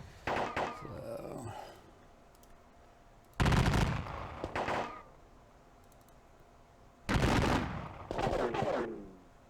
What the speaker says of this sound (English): And have the 2 lines fire at each other back and forth again